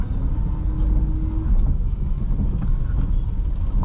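A manual car's engine hums low and steady from inside the cabin, rising slightly as it accelerates gently in crawling traffic during a long jam, with wind rumble and no talking.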